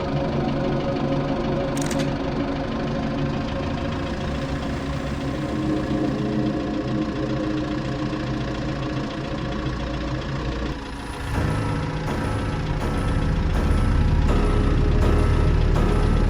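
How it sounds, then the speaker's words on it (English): A maintenance cart in the game s.p.l.i.t. runs with a steady, loud mechanical engine drone, and a brief clunk near the start. The cart then shifts into a heavier, rising rumble as it pulls away, with rhythmic rattling over the top. "I hopped on this cart, started it up and moved towards partition 11."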